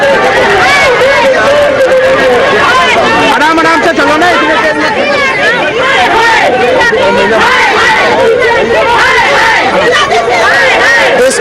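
A large crowd chatters on the street outside Sonia Gandhi's 10 Janpath residence, a dense continuous babble of many voices, loud and close, with individual voices calling out over it.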